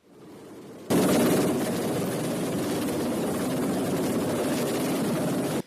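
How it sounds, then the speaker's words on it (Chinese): A rescue helicopter hovers over Beidawu Mountain, its rotor drone loud, steady and continuous for several seconds before stopping abruptly. "救援直升机停伫天顶"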